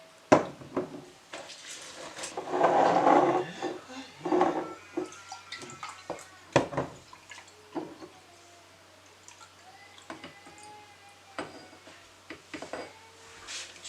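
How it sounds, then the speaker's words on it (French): Detox water is poured at home, a short liquid splash followed by scattered drips and light clinks of a glass or jug, fairly close and quiet with no talking. "Je vais mettre un peu d'eau détox."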